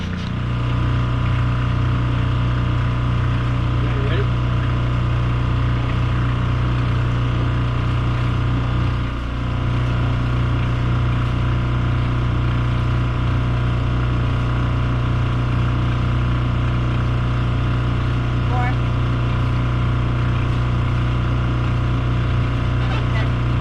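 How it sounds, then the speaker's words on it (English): A boat's onboard generator runs aboard a sailboat, a loud steady mechanical drone with a low throbbing pulse that holds constant throughout without pause. "That is the generator, which was one of the last things we needed to do"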